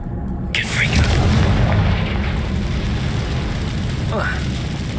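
A Confringo spell explodes in the video game Hogwarts Legacy, a loud booming blast with a steady low rumble that carries on under game sound effects and a brief whoosh.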